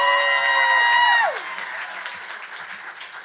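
Crowd applause for the poets at a teen poetry slam, heard after a sustained tonal horn-like sound that slides downward and cuts off, leaving a lighter stretch of clapping.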